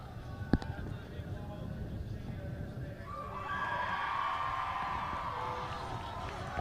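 A crowd cheers at a college softball game, a broad swell of noise that rises halfway through and holds, with a commentator talking over it.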